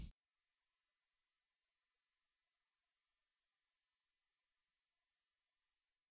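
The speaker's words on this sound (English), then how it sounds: "Now let's listen to 10K." A very high 10 kHz sine test tone sounds continuously at an even level for about six seconds, isolated against silence, beginning and ending abruptly.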